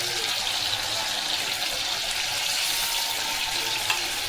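Hariyali chicken pieces fry in a small amount of hot oil, giving a steady close hiss and sizzle throughout with no voices.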